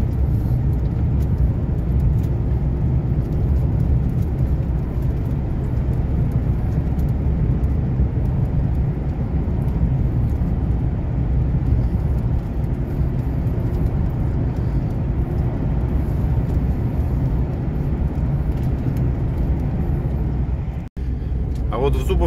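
Steady, loud road rumble and tire roar from inside a car cruising along the Volgograd–Astrakhan highway at around 80 km/h through a village, continuous throughout with a brief dropout near the end.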